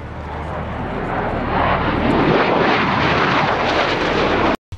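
A loud, steady airplane engine roar swells gradually and holds as a broad rushing drone, cutting off abruptly near the end.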